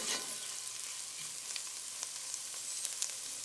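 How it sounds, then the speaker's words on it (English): Onions, garlic, cumin and curry leaves fry in oil for a tomato and lentil soup, a soft, steady sizzle broken by occasional light stirring clicks, with no talking. "Next, add the cumin and curry leaves. Stir and cook until fragrant,"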